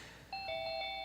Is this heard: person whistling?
no